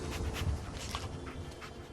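Dogmeat, the dog companion in the Fallout 4 video game, pants close by in quick, soft, rhythmic breaths over a faint background of game ambience.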